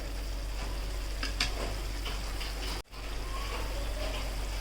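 Onion and green masala paste simmering in a pan as chicken is mixed in, with a soft steady sizzling bubble and a few light stirring scrapes, close and fairly quiet, with no talk.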